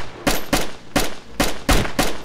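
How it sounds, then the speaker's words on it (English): Six sharp gunshots from DayZ Standalone ring out in an irregular rhythm over about two seconds, each a loud, close crack with a short tail, no talking in between. "I just shot one"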